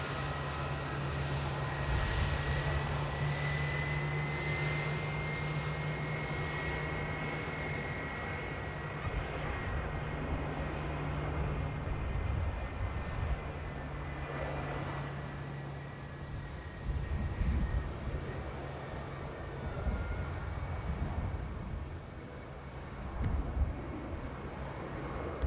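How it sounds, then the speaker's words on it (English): Lauda airliner taking off from Manchester Airport on a return flight to Vienna, with a steady, loud jet engine roar that holds throughout, broad and rumbling with a faint whine, and no voices. "Lauda rotates and climbs."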